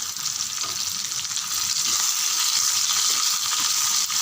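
Onions sizzle loudly in a hot pan with green chillies, curry leaves and asafoetida, a dense, steady hiss with faint stirring scrapes, close up and continuous with no voices.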